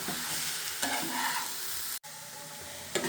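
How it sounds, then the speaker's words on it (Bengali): Grated carrots for carrot halwa sizzle in a pan over a medium flame, stirred with a spoon that scrapes and clatters at intervals, close and steady without any talking. "এইভাবে কিন্তু ভালো করে মিক্সড করে নাড়তে হবে একদম চুলার আঁচটা মিডিয়াম রেখে"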